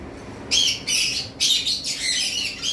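Blue lovebirds chirp in loud, shrill bursts at a bird farm, several overlapping squawky calls coming close together from nearby with short pauses between.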